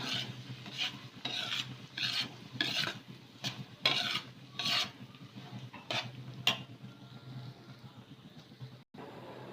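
Semolina roasting in ghee in a pan while being stirred, with a close, steady run of rhythmic scraping strokes about every half second over a soft sizzle, and no talking.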